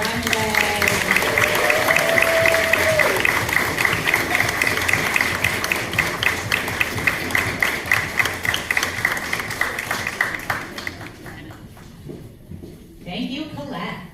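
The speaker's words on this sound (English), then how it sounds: "Clap and cheer for Colette as she confidently cruises down the runway" An audience claps and cheers as a model walks the runway at a fashion show. Rhythmic clapping mixes with voices, then thins out and fades near the end.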